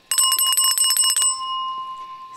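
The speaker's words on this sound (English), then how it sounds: "Miss Mo, that bell is not in tune." A hand bell rings in a rapid run of about a dozen bright, metallic strikes, then trails off in a clear ringing decay. The sound is close and loud with no voices.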